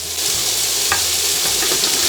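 Garden vegetables sizzling steadily in a hot skillet, with a few scraping stirs mixed into the loud, close, continuous frying hiss, no talking.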